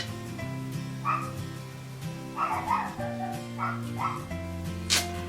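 Dogs bark and yip in a few quick bursts over a steady background hum, the sounds close by and moderately loud.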